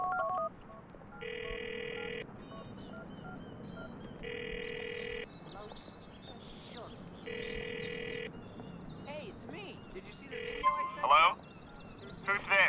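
A telephone rings in the video game GTA IV, sounding three evenly spaced electronic ring bursts, followed by brief clicks and other game sounds with faint background noise.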